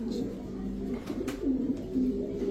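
A female pigeon coos softly in a low, rolling pattern, several short warbling calls repeated close by over faint background noise.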